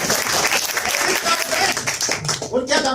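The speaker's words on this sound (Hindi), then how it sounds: "ताली बजाओ भाई।" Audience applause and clapping at a crypto trading bot meeting in India, dense and sustained throughout with a brief dip near the end, voices faint underneath.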